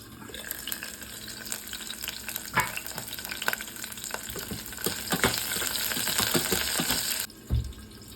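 Garlic and fenugreek frying in a home pan give a steady crackling sizzle, with clinks and scrapes of a spoon stirring throughout and a brief water splash near the end.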